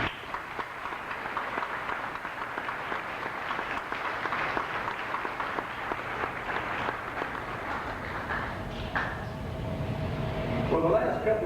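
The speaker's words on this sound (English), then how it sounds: "round of applause." Crowd applause rings out at a high school graduation ceremony, a steady dense clapping wash that fills the hall for several seconds, with background murmur and a faint tonal hum rising near the end.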